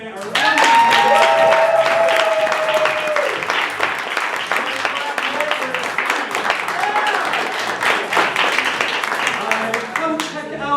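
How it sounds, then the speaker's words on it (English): A comedy-show audience applauds loudly and continuously for performer Michael Day, with music and a voice mixed in over the clapping. "Giant round of applause for Michael Day,"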